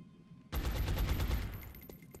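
A sudden, loud burst of rapid gunfire at a zombie in the strategy game X-COM: Enemy Within starts sharply and rattles for about a second and a half before tapering off.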